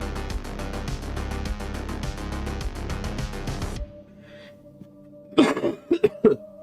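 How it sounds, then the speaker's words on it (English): A man who has been ill for a couple of days coughs several times, close and loud, in a quiet room right after rhythmic music cuts out. "you're going to have to excuse my cough"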